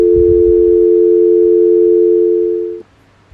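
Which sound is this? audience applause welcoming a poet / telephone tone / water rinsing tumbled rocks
telephone tone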